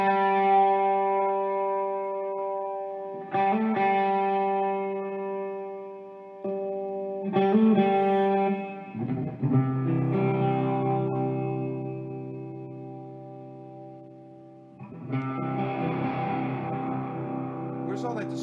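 Electric guitar with a distorted, effects-laden tone, sustained chords and notes ringing out and changing every few seconds, fairly loud and close, played alone.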